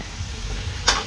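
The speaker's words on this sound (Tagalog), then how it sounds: "Igisa na natin kamatis nila." Tomatoes sauté in a pan with a steady, close sizzling hiss, and a single sharp clink of a utensil near the end.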